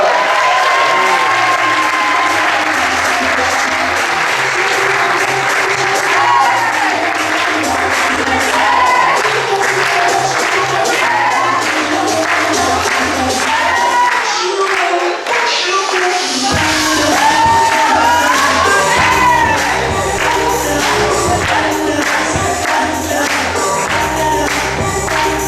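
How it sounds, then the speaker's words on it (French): Sustained applause from a resort audience welcoming a female entertainer at a summer resort in Menorca, loud and continuous with some cheering and crowd noise throughout. "Applaudissements s'il vous plaît pour votre animatrice"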